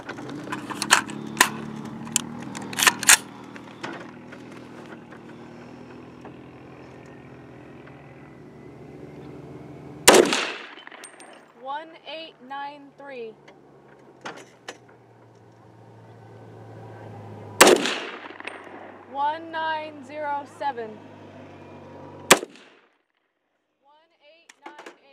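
Three sharp, loud rifle shots from a 300 AAC Blackout with an 8.5-inch barrel crack out several seconds apart, each ringing briefly. Voices speak between the shots.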